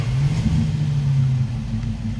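A 1971 Plymouth Valiant Scamp engine runs with a steady, loud low rumble and a brief rise in revs, close by with no talk.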